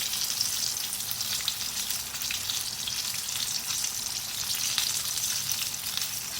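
Fish pieces frying in hot oil for crispy fried fish, a dense, even crackling sizzle that stays loud and close throughout with no voices.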